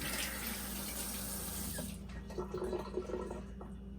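Brass valve parts are rinsed under a running tap. The water gushes loudly and steadily for about two seconds, then cuts off, leaving quieter close handling clinks.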